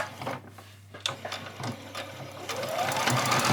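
A sewing machine stitching fabric fairy wings, its motor buzzing close and loud in bursts, stopping briefly, then running again in a rising, steady whir for a short back stitch.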